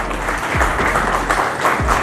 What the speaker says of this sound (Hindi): जी, थोड़ी ताली और बच जाएगी तो कमाल हो जाएगा।